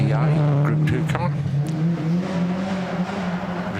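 Rally car driven by Richard Barrow out over a jump on a forest stage at the Festival of Speed, engine droning loudly with revving surges, heard under commentary.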